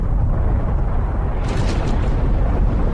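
Deep, sustained rumbling roar of a volcanic eruption at Vesuvius, a continuous loud low-end blast with a brighter surge of debris-like crackle midway, no voices.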